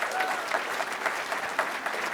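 Audience applause for award winners at a regional sports and entrepreneurs election ceremony, steady clapping from a crowd throughout with no break.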